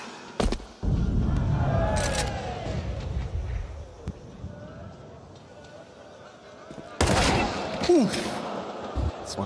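A loud gunshot headshot in a CS2 match, with sharp broadband cracks standing out over steady game ambience and esports casters talking throughout.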